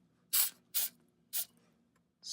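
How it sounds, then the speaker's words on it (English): Three short, sharp bursts of WD-40 aerosol spray hiss in quick succession while a Jeep Wrangler JK exhaust is removed, with a fourth starting at the end; quiet pauses between them. "spraying some WD-40 makes it way easier, or any other type of lubricant makes it way easier"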